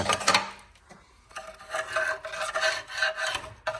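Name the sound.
scraping caked dirt off a Jeep Cherokee valve cover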